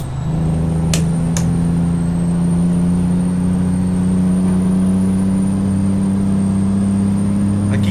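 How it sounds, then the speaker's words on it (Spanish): A Freightliner Columbia truck pulling a double trailer of dry boxes drones steadily with a constant turbo whine over the low engine rumble, heard from inside the cab, with two brief hissing bursts near the start. "Oigan, qué bonito se escucha ese turbo."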